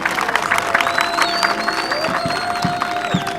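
Crowd applause and cheering at an outdoor groundbreaking ceremony in Lualaba, with broad clapping filling the clip steadily alongside some whistles and voices.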